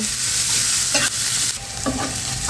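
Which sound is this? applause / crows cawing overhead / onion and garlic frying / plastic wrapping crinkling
onion and garlic frying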